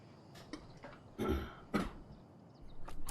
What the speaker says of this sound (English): Way to cough on your own breath